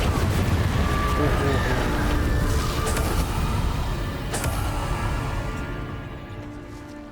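The Incendio fire spell in Hogwarts Legacy bursts out as a loud, dense roaring whoosh that holds steady and then slowly fades, with a voice speaking over it.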